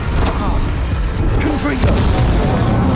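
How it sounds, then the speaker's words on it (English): Incendio fire spell cast in Hogwarts Legacy, a dense rumbling burst with whooshing mechanical game effects, loud and continuous over a few seconds. "Incendio!"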